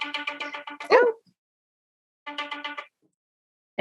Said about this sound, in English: it's my ringtone